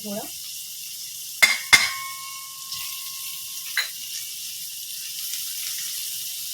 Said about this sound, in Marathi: आपण पॅनमध्ये तेल तापट ठेवलं आणि आता तर कढीपत्ता घालणार आहोत मध्ये चिरलेला पांढरा कांदा घालणार हिंग घालायचं